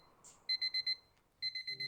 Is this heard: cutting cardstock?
no